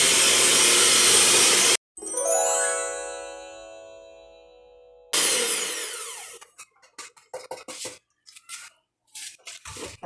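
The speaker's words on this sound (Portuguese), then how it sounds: "Agora eu vou utilizar o quê? A batedeira, porque a gente quer nossos bolos bem fofinhos" Electric mixer beating cake batter for a homemade cake: a loud whirring burst that cuts off, a motor whine winding down, then choppy, stop-start whirring with clicks.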